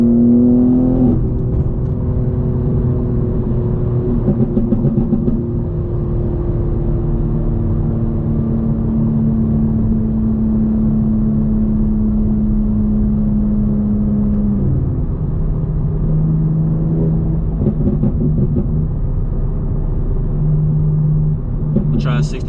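A 750 hp BMW G82 M4 Competition pulls hard through the gears on a 2AM drive, heard from inside as a loud, steady engine drone that climbs in pitch and then drops at a gear change near the end.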